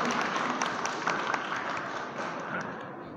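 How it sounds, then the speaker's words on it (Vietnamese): A church congregation applauding together, a steady dense wash of clapping from many hands that fills the space and holds evenly throughout. "Xin cộng đoàn chúng ta nổ một tràng vỗ tay thật lớn chào đón cha tổng đại diện"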